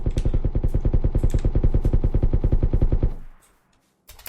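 Sustained automatic gunfire in PUBG Lite, a fast even stream of loud shots for about three seconds, then silence and a short burst of noise at the end.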